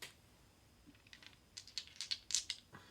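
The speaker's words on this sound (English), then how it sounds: "roll some Astro dice now." Small astrology dice rattle and tumble across a surface in a quick, faint flurry of light clicks that builds over a second or so and then settles.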